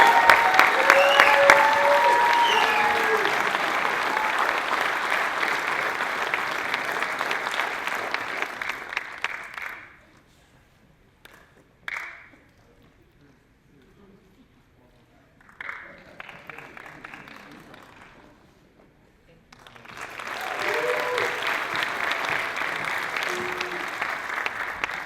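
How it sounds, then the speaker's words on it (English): A hall-of-fame sports ceremony audience applauds in a hall, a dense sustained clapping that fades to near silence, brief scattered claps, then swells again into full applause. "a big round of applause for Dr. Nick Faraci"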